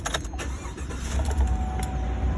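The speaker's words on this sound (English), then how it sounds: "Now I do always like to start the truck." A 2018 Chevrolet Silverado pickup truck engine starts up close by, with a sharp cranking burst at the start, then settling into a steady, low rumbling idle.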